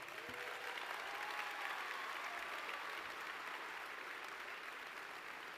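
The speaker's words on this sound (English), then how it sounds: "Let's give them one more round of applause," Steady crowd applause for volunteers at the 2022 BC Summer Games opening ceremony in Prince George, a broad, fairly distant wash of clapping that holds evenly throughout with no voice on top.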